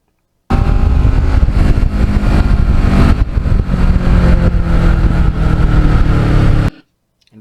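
A restored Kawasaki Ninja motorcycle with carbon fiber parts rides on the open road, its engine note loud and continuous, rising and falling with throttle for about six seconds before cutting off abruptly to near silence.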